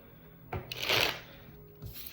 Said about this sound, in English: a solid 30 seconds to shuffle these cards.